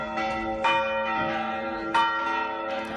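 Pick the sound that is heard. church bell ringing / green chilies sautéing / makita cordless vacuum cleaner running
church bell ringing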